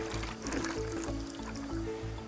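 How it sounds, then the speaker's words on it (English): Water pours steadily into a large cooking pot during a big communal meal in India, giving a constant, close, gushing stream with no break. "He then fills the pot with more water so it achieves the same consistency he had before the tomatoes."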